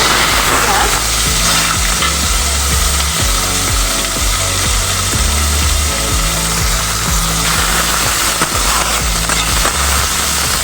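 Bay leaf and whole garam masala spices frying in oil for a boneless chicken kasha, a loud dense sizzle with rhythmic scraping of a spatula against the pan throughout.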